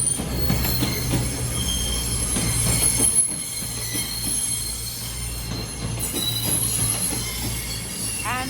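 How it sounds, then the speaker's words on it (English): A CrossCountry Class 220 diesel unit on a Plymouth to Newcastle service moves through Newcastle station, with a continuous engine drone and sharp, high wheel squeals rising over it. "we have another cross-country service from Plymouth to Newcastle, which is"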